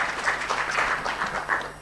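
A conference audience applauding a speaker, a brief burst of dense clapping from a roomful of people, moderately loud and steady.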